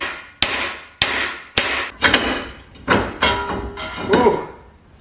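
Heavy hammer blows strike a brake rotor on a Mitsubishi Eclipse GSX hub, about eight loud, sharp metallic impacts at an uneven pace, each ringing and decaying before the next, close up.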